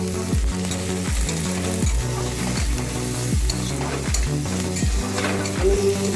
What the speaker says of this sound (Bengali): এখানে টমেটো কুচোটা আছে এটা আমি দিয়ে দিলাম দিয়ে আমি ভাজতে লাগলাম